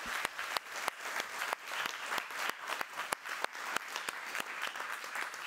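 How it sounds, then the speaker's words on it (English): Audience applause at an evening celebrating the 2023 Abel Prize, a steady round of clapping with sharp individual claps standing out, moderately loud and continuous for several seconds. "Another round of applause."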